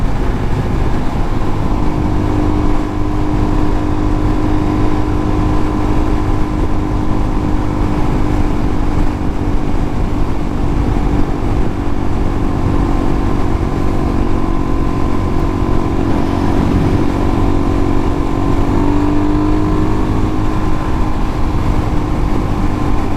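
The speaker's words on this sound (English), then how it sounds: "But this is a test on wind noise going 70." Steady roaring wind rush with a droning engine underneath from a Suzuki DRZ400SM motorcycle cruising at 70, loud and continuous throughout with no speech.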